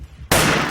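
A gunshot in the online shooter game Wolfteam, one sharp loud blast that starts abruptly after a brief quiet moment and stays loud to the end of the very short clip.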